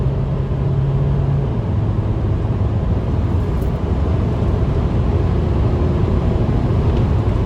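A 2021 Volkswagen Caddy 2.0 with a 122 horsepower engine accelerates on the highway, with a steady loud cabin drone of engine and road noise, a low engine tone shifting early, and no talk.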